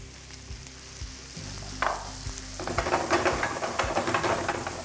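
Garlic, ginger and green chili fry in a pan over a high flame with a close, crackling sizzle. A few taps and stirring knocks come first, then the frying grows louder and busier toward the end.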